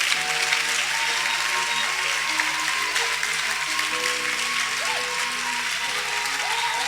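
Church congregation applauding loudly and steadily, a dense wash of clapping with scattered cheers and voices mixed in throughout.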